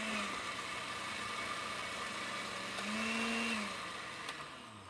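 A glass-jar blender runs close by, a steady whirring motor whine that rises and dips slightly as the contents churn, with no voices over it.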